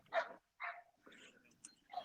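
Pit bull terrier puppies give several short, close barks and yips in quick bursts, spaced by brief pauses, with people talking faintly nearby.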